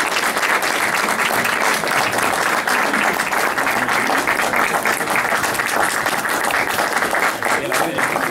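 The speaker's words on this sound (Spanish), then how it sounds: "Y por eso le pido al público presente que le brindemos un gran y merecido aplauso a Julio Pinto" Sustained, loud applause from an audience at a history forum on social movements, many hands clapping in a dense, unbroken wash with faint crowd murmur beneath.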